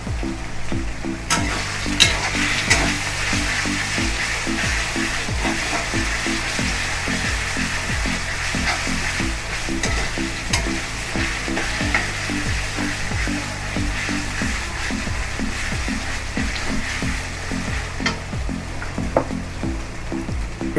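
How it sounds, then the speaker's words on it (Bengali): Hybrid tomatoes fry in a pan with a loud, continuous sizzle, while a steady low background drone runs throughout. "এগুলো হাইব্রিড টমেটো, এগুলো একটুখানি ভেজে নিতে হবে"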